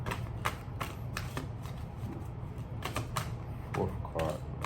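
Tarot cards shuffled and drawn by hand, a run of crisp, close riffling and snapping card sounds in quick irregular bursts, with faint murmuring in the background.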